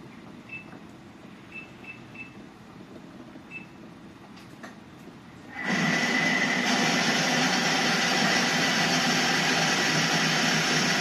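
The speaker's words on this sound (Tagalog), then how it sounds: "I-blender po natin siya." A loud, steady whirring motor starts abruptly midway and runs continuously, drowning out the quieter background that came before it.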